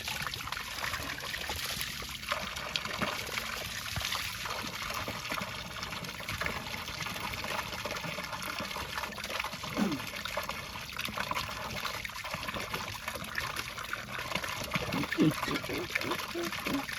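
River water on Mt. Pulag rushes in a steady, broadband flow that fills the whole stretch, fairly loud and constant, with faint voices and small knocks underneath.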